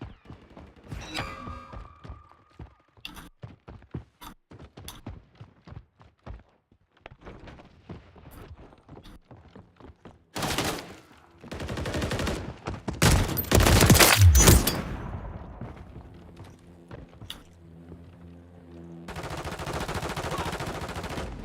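Automatic and single-shot gunfire rattles in bursts through a Call of Duty MW3 beta firefight, with scattered footsteps early and a dense, loud volley near the middle, then continuing shots toward the end.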